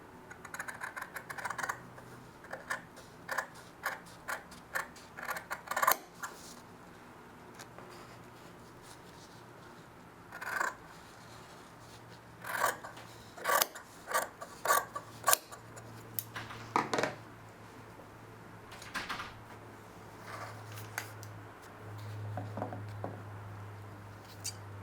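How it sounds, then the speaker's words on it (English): Sharp snips of 12-inch Taylor's shears cutting through blue jeans denim, a string of crisp irregular clicks and short crunches close up, with a low hum underneath and no talking. "these are the 12-inch Taylor's shears I'm using"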